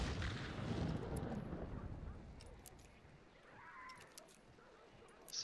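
Video game gunfire in a war shooter, a few muffled shots and distant booms over a busy battle din, fairly quiet, with a player's voice briefly audible.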